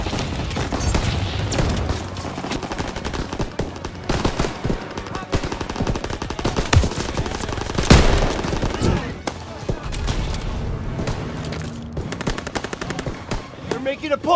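Rapid machine-gun fire with a loud grenade blast in Call of Duty: WWII, dense and close, shots crackling in bursts throughout.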